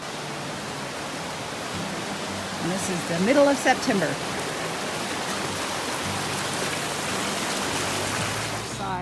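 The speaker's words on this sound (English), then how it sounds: "Now we can hear some water coming down from Mildred Lake" Water runs down from Mildred Lake in a mountain pass setting, a steady broadband rush that fills the whole clip at moderate level, with someone speaking briefly over it partway through.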